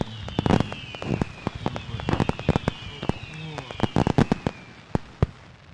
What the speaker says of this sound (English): look at the fireworks. Look at that big one over there.